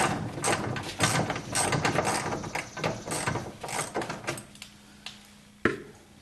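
A ratchet clicks rapidly up close while removing the fan shroud nut on a 1976 Corvette, with bursts of mechanical ratcheting and a few metallic knocks as the work slows toward the end.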